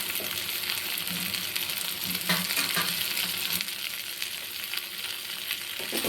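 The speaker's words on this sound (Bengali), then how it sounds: "টমেটো, পেঁয়াজ আর ক্যাপসিকামটা আমার ভাজা হয়ে গেছে" Tomato, onion and capsicum fry in a pan for soya chilli, a steady close sizzle with occasional stirring scrapes and bursts of crackling.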